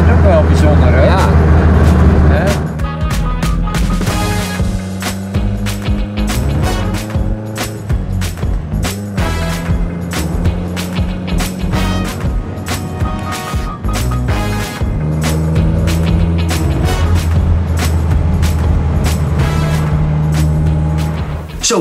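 An oldtimer convertible drives with its top down, its exhaust giving a steady low rumble and engine hum. Voices talk over the sound throughout.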